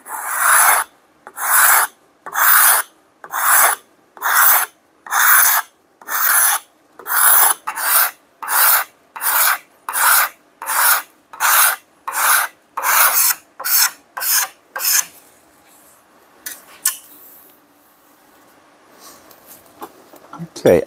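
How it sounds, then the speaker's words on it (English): A cabinet scraper is pulled along a wooden handle for a double bit cruiser axe in about twenty regular, rasping strokes, each a loud close scrape, and then the work stops and only faint handling noises and a brief voice remain. "today I wanted to use the cabinet scraper"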